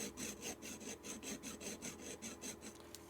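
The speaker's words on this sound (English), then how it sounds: "I like to get the sandpaper inside there. And this is just 220 grit that I've cut a little strip out of" A small strip of 220 grit sandpaper rubbed back and forth inside a part during a sewing machine repair, a quiet, close, rhythmic rasping of about a dozen even strokes.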